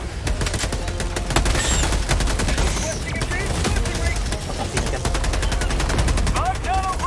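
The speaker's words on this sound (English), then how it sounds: "That's a sentry gun, right?" A sentry gun in a co-op shooter video game firing rapid, steady automatic bursts through the whole stretch, loud and close, with scattered explosions and game effects and some voices mixed in.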